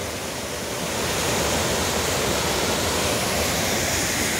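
A waterfall at the end of a stone staircase on a scenic trail, its steady broadband roar of falling water loud and continuous throughout, swelling slightly after the first second, with no voices.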